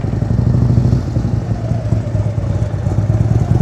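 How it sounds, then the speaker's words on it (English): A motorcycle engine runs loud and close, a steady low rumbling throb with a slight rattle, no one talking. "Jorge's motorcycle sounds as good as it looks."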